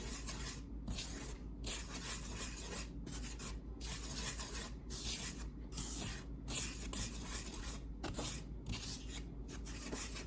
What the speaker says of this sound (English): So now I'm just gonna whisk this up and then sift it into the silver bowl.